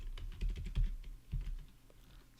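A git commit message is typed on a computer keyboard, a quick close run of key clicks that slows and thins toward the end, with no talking.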